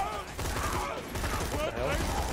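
Enemy gunfire in the video game Borderlands 2, rapid overlapping shots rattling continuously underneath excited talking from players.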